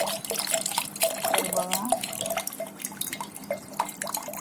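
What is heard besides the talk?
coconut water dripping out of coconut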